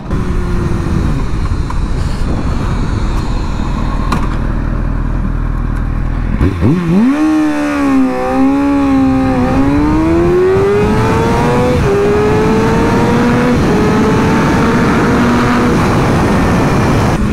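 A motorcycle makes hard acceleration pulls through the gears in a fuel-octane test. It idles loudly, then roars up with a rising whine, shifts once and keeps climbing for a long stretch, close and very loud.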